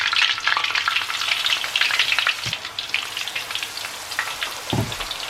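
Spinach peyek batter frying in hot oil, a dense, steady sizzle with a few sharp pops bursting out, close and loud, no voices.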